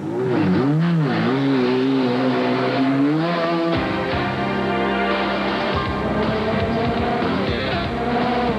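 A Jaguar race car engine at the 1988 Le Mans 24 Hours roars loud and close, its pitch wavering with revs before a sharp shift into a dense, sustained full-throttle drone.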